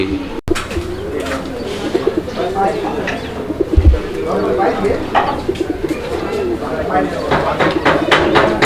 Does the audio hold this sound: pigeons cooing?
yes